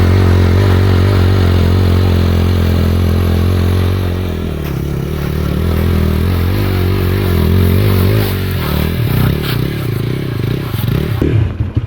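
TVS Apache RTR 160 4V motorcycle engine running loud and close throughout, steady throttle with shifting pitch as the rider eases off and works the clutch, with mechanical clatter.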